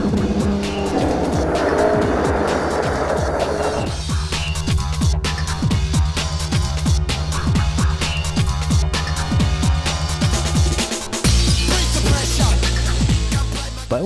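A 2013 Jaguar F-Type S sports car starts up and drives off loud and close, its engine revving hard through gear changes with crisp rises and drops in pitch and brief pops over a continuous roar.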